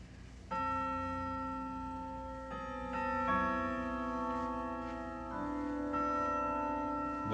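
A Sly clock in a clock shop chimes the Ave Maria melody on the hour, its bell-like notes ringing in a steady, sustained sequence, moderately loud and close, with no voices over it.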